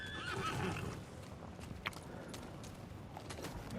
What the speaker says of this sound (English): we're going to go ahead and call our horse